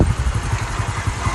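A motorcycle engine running close by with a steady, rapid low-pitched putter, idling or cruising evenly through a short stretch near Murree, Pakistan, with no talk.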